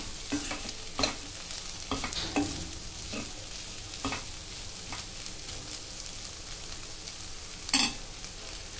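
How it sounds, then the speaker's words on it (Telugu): A spoon stirs cauliflower fry with coriander powder in a pan, with repeated scraping strokes about once a second over a steady low sizzle, close and moderately loud, with no talking. "ఇందులో 1/2 స్పూన్ ధనియాల పొడి వేసుకోండి. వేసుకొని బాగా కలుపుకోండి."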